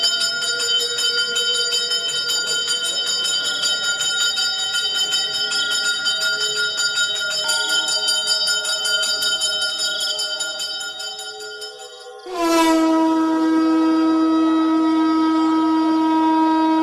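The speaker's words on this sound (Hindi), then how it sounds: "मंदिर की सारी घंटियां खुद ब खुद बजने लगती हैं।" Temple bells ring on their own in a sustained, shimmering metallic drone, which fades and then gives way to one loud fresh strike whose tone rings on long and clear.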